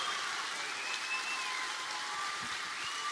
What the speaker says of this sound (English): Please give a big round of applause for Cliff, Ben, and Michael